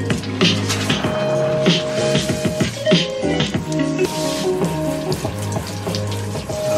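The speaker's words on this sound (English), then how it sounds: "Alright, let's turn on the water." Water from a tap sprays steadily onto a portable shower speaker, a loud close hiss and splash over music playing from the speaker underneath.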